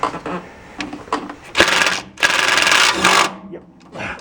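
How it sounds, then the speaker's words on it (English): A swivel impact gun rattles on Continental Mark III transmission bolts in two loud, close bursts of hammering, with brief quieter clicks and shuffling around them. "Got a swivel impact."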